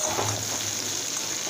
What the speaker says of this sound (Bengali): আলু পটলটা বেশ খানিকক্ষণ ভালো করে ভেজে নিতে হবে, মিনিট 2 মতো